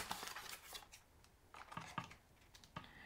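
Scissors snip through paper and cardboard while a bee-themed Valentine box is being made, giving a quiet run of short, crisp cuts and rustles close by with no talking.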